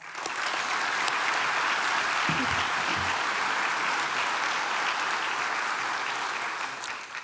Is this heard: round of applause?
yes